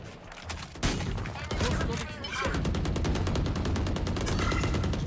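Sustained bursts of video game gunfire, rapid automatic shots layered in a dense, loud barrage that continues throughout, with occasional heavier thumps mixed in.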